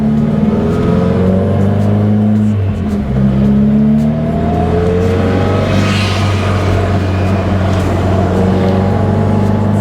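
A 2020 Subaru WRX with a six-speed manual swap hums loudly and steadily, its pitch dropping as the clutch engages and then climbing again as the car pulls away.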